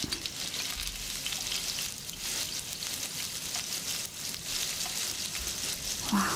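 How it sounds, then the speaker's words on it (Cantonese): Salted fish frying in hot oil in a wok, a dense, close, steady sizzle and crackle that runs without a break from start to finish. "就而家炸嗰個鹹魚"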